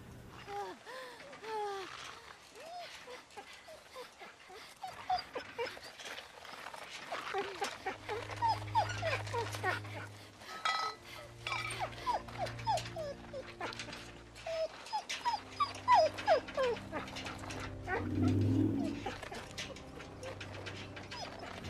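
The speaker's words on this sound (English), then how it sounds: "What an evil dog. I'm gonna kill it." A dog in The Walking Dead video game whimpers and yips in a run of thin, high cries, joined partway through by low mechanical ratcheting and rumbling game sounds.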